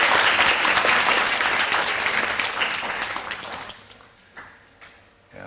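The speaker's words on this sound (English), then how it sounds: "Let's give them a round of applause in appreciation." An audience at a year-end reflection gathering gives a round of applause in appreciation; thick, loud clapping from many hands gradually thins and fades, leaving a few scattered final claps.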